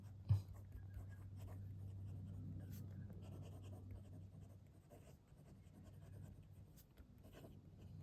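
A steel Andhand Method fountain pen with a number 5 Schmidt medium nib writes on paper with Montblanc Manganese Orange ink, giving a soft, faint continuous scratching with small strokes under a low steady hum, close by.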